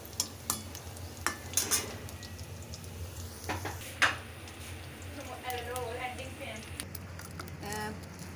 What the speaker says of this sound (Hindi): यहाँ पे जी पकौड़े फ्राई हो रहे हैं